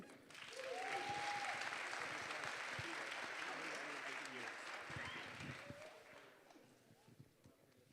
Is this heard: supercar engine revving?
no